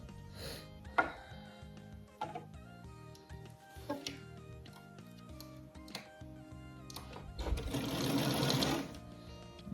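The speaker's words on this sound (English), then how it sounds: "then I start sewing" A sewing machine stitches log cabin quilt pieces with rapid mechanical clatter in short bursts, separated by ticks and clicks, then a longer continuous run of stitching near the end; close and fairly quiet.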